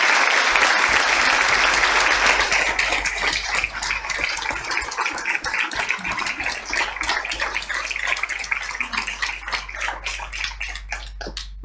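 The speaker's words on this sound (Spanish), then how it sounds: "Un aplauso para ella." An audience at a lecture event applauds with dense, loud clapping that gradually thins into scattered individual claps over several seconds.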